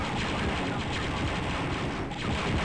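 Rapid, sustained gunfire from the 1995 first-person shooter Star Wars: Dark Forces, a dense continuous burst of blaster-style shots with no break, loud and close throughout with no talk.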